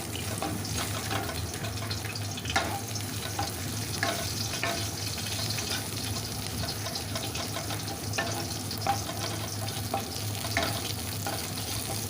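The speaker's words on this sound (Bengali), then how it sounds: "পেঁয়াজ আর কাঁচা লঙ্কাটাকে বেশ ভালো করে নেড়ে চেড়ে ভেজে নিলাম" Sliced onion and green chillies frying in a pan while being stirred, a steady close sizzle with periodic scraping of the spoon throughout.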